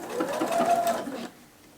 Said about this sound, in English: I'm just going to go ahead and sew this with a matching thread and a 1/4 inch seam allowance